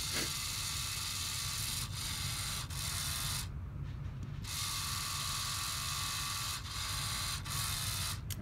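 Lego EV3 motors run a program, whirring in a continuous mechanical buzz with a short pause partway through, faint and close.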